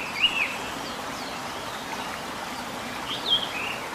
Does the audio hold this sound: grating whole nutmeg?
no